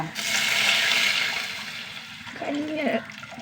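Thick rice starch water is poured into a pan of fried onions and green chillies, a close gushing splash that fades before a voice speaks briefly.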